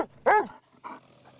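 A trained search and rescue dog working in rubble during a disaster exercise gives a few loud barks with a growly edge, close by, with short pauses between them.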